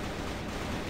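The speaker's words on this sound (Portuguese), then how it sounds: "Granada de fumaça!" Smoke grenade in CrossFire 2.0 gives off a steady, loud broadband hiss, dense and unbroken for just under a second, with no voices over it.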